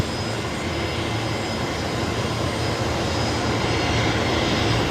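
Qantas flight 126 airliner taxiing at Brisbane Airport, a steady, loud broadband jet-engine roar with a faint high whine, constant throughout.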